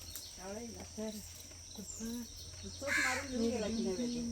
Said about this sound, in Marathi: आले आले कावळे आले